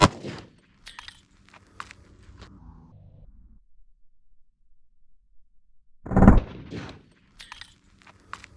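Pistol shots from .357 SIG and .45 ACP rounds fired into ballistics gel, two sharp, loud reports several seconds apart, each followed by a short echoing tail and quiet clinks between.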